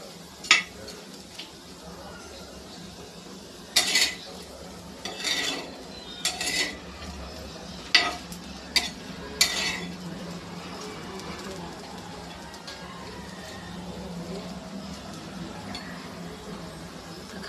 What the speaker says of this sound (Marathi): पहिले आपण व्यवस्थित भाजून घेणार आहे.